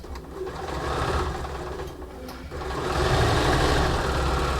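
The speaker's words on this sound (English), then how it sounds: "most sewing machines do not like to start sewing at a point" A sewing machine runs steadily, stitching a bias-cut appliqué seam through fabric, with a loud continuous motor hum that dips briefly in the middle before resuming.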